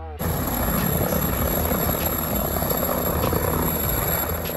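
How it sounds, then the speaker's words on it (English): An ambulance helicopter's rotor and turbine roar loudly and steadily, close by and uninterrupted, with no voices over it. "Ambulance Helicopter."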